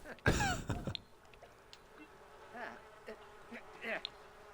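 Bees buzz in The Sims 4, a faint insect drone under a sharp, loud burst near the start, then soft scattered chirps and squeaks.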